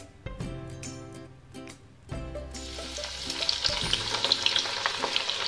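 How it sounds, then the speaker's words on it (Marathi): Sliced onions drop into hot oil for chicken dum biryani. A few clattering knocks lead into a loud, bubbling sizzle that swells and keeps going, close by and with no one talking. "आता या तेलामध्ये आपण उभा काप केलेला सर्व कांदा तळून घेणार आहोत"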